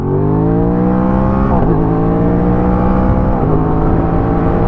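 An Aprilia RS 660 motorcycle in A2 trim runs loud and close, a strong steady engine drone with harmonic whine and a couple of brief throttle dips and recoveries.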